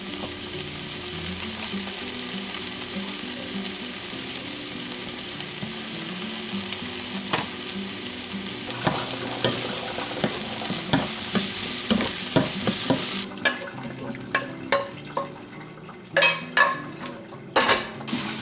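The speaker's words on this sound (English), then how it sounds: "I'm going to cook a few tomatoes over here in the skillet that we're going to add in here with the soup" Tomatoes frying in a skillet give a continuous sizzle, then stirring and several sharp clinks of a utensil against the pan near the end, close and with no talk.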